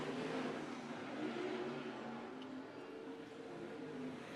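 Non-wing sprint car engines roar at USA Raceway during an ASCS main event, a dense continuous drone of several cars circling the dirt oval at steady distance, without any talk.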